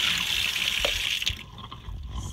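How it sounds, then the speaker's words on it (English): Water from a sink tap rinses paint out of a plastic water cup, a steady close gush of running water with a few knocks and splashes as the cup is handled. "going to rinse out your water cup, get all that paint out"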